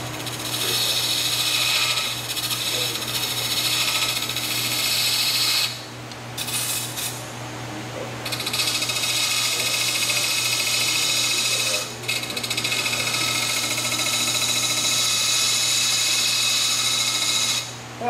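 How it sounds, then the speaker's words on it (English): Spindle gouge taking a very fine, shallow, slow cut on a wood lathe while turning a bowl, a steady machine hum and whirring scrape continuing almost without break, with two short pauses. "If the bowl gouge didn't work, the spindle gouge might work. A very fine cut."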